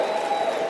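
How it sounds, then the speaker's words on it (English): Applause from an audience at a motivational speech, a brief, even roar of clapping and crowd noise that continues without a break. "Give yourselves a round of applause"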